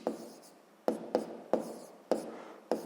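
A pen or chalk writes out a maths equation for a sixth-grade exercise, giving six sharp, scratchy strokes spaced unevenly, each starting with a crisp attack and fading under a faint background hiss.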